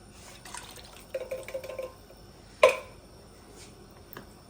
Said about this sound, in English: I'm gonna rinse this can out too.